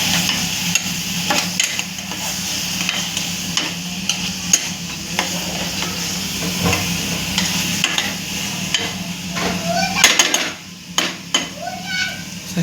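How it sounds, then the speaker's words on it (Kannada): Soybeans are stirred in hot oil in a pan for a bachelor-style veg biryani, with a soft sizzle under repeated scraping and clinking of a spoon against metal, ending in a few sharper knocks. "ಈ ಸ್ವಲ್ಪ ಸೋಯಾಬೀನ್ ಇದಕ್ಕೆ ಹಾಕಿ ಮಿಕ್ಸ್ ಮಾಡೋದು"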